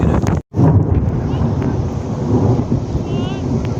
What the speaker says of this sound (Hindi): बारिश भी आ रही है और ठंडी ठंडी हवाएं भी चल रही हैं।